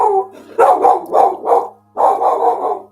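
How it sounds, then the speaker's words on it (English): A dog barks in repeated bursts close by, several loud barks in quick succession, a short pause, then another sustained bout, with no talking over it. "Sorry, that was my dog."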